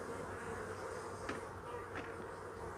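Honeybees hum in a dense, steady drone at an open beehive during a spring inspection, close and constant, with a couple of faint thumps from the hive being handled.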